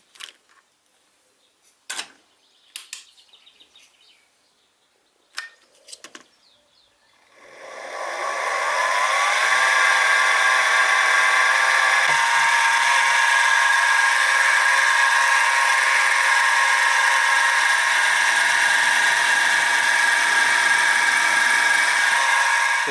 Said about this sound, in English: So I'll centre drill this, then I'll go 90 degrees, centre drill, and keep on doing all the centre drilling